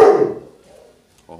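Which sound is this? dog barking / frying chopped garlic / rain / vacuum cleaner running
dog barking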